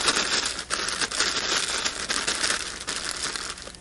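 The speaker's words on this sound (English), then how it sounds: "let me bring in a plastic bag here" A plastic bag handled and crumpled close up beside a soldering mat on a workbench, giving a dense, continuous crinkling and rustling that runs the whole time with no voices.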